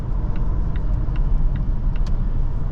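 A 2024 Volvo S60 B5 AWD with a 2-liter turbo and electric motor assist pulls away from a stop in winter, heard from inside as a steady low engine rumble with faint clicks, no voices.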